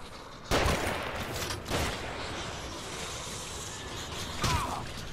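Enemy gunfire in the survival horror game The Evil Within, heard as a few sharp, loud bursts over a constant noisy background, with one near the start, another around two seconds in, and a last one near the end.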